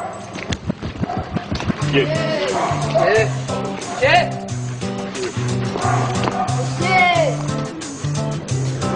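A French national police dog barks repeatedly during bite training, sharp rhythmic barks and yelps running through the whole stretch, loud and close, mixed with voices and music-like tones.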